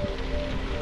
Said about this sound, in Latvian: faktiski līst lietus